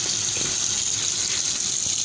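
A newly installed tap in a wooden-floored office shower runs at full flow, a steady, loud, close gush of water with no breaks.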